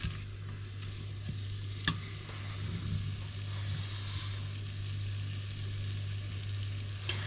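Onions sautéing in a pan for cream of mushroom soup with anchovies, a continuous close sizzle with a low steady hum beneath and a few sharp utensil clicks, no talking.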